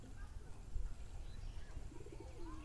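Soft, low pigeon coos come and go against a quiet background, faint and somewhat distant.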